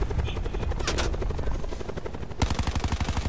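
A helicopter in a video game whirs steadily with a rapid rotor chop that grows more distinct near the end, mixed with brief bursts of game noise.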